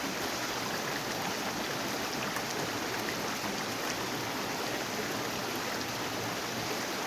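Water flows steadily in a forest park stream, a continuous broadband rush with no pauses, even and moderately loud throughout, with no voices.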